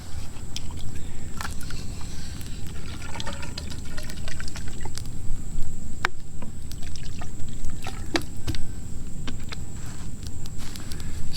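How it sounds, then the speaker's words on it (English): Water is poured into a bamboo tube holding tapioca for steaming outdoors, giving a continuous trickling, gurgling fill with a few sharp knocks throughout. "Fill that full of some water."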